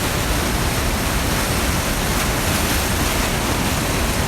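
Rushing water of the Feather River roars as a dense, loud, constant wash, close to the microphone, with no voices.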